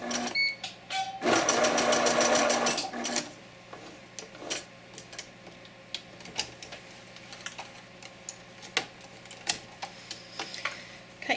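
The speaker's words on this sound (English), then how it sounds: "And I'm just back stitching at the end as well." A sewing machine back stitching the end of a row on a chenille scarf makes a loud, rapid mechanical whir for about two seconds, followed by scattered light clicks and handling taps.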